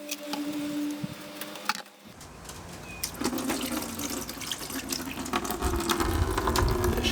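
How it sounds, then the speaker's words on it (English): Coolant pours from the radiator of a Suzuki RMZ250 dirt bike in a backyard, a steady splashing, trickling stream that starts after a brief quiet pause and continues close and fairly loud to the end. "So I've taken the radiator cap off, and now I'm going to drain it."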